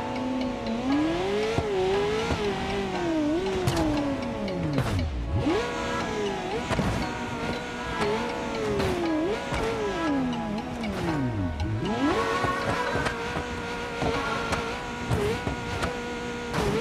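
A McLaren car in a video game drives through a destroyed city, its engine note rising and falling in steady revving sweeps, loud and continuous for the whole stretch, with no talk.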